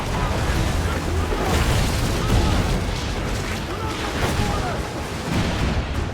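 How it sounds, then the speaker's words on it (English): Cannon fire from chain shot aimed at ships in the pirate-era game Assassin's Creed 4 Black Flag, a dense, continuous rumble of booming shots and crashes that stays loud throughout. "The chain shot is a stun weapon. Hitting ships slows them down."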